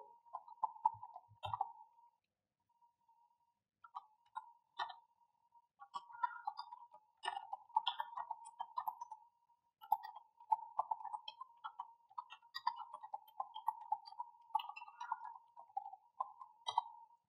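Irregular light key clicks from a computer keyboard as a command to upgrade Python's pip, setuptools and wheel is typed into a command prompt; quiet taps come in uneven bursts with short pauses, and no one speaks.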